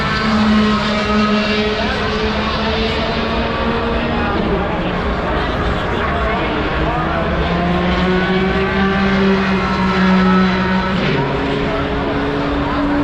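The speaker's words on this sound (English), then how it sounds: "Here comes another car off the pit lane." An IndyCar race car leaving pit lane on Carb Day at Indianapolis whines past with a rising then falling pitch, loud and sustained, while someone talks over it.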